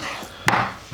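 A single sharp knife chop through beef strips for jerky lands on a cutting board indoors, one crisp thud in an otherwise quiet moment.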